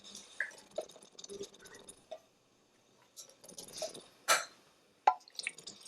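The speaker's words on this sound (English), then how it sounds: "going to go ahead and add some beef broth to these tomato cans" Beef broth is swirled in emptied tomato cans and poured into a chili pot, giving faint, scattered drips, plops and small metallic taps close up, with no talking.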